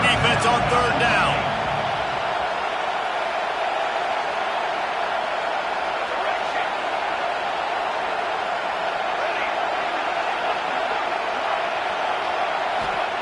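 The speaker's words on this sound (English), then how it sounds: "Decibels rising as the crowd gets behind this defense on third down." A stadium crowd at a football game roars steadily as the home defense lines up on third down, a dense, sustained wall of cheering noise that swells briefly at the start and then holds level.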